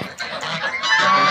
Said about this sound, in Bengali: এখানে সবগুলা রাজহাঁস, প্রচুর রাজহাঁস এখানে।